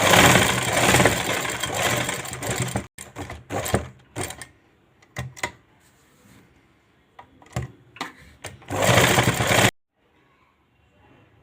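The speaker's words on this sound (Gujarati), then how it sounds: "હવે ધાર સિલાઈ લઈ લેશું।" A sewing machine stitches the edge of a cloth cap in stop-and-start runs: a long loud whirring run, then short bursts, then another sustained run before it falls silent.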